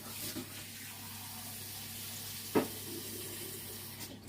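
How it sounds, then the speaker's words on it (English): Warm water runs steadily from a kitchen tap with a hand held under the stream, making a continuous hiss with one brief knock partway through. "I am running the tap warm, right? I put my hand under the tap."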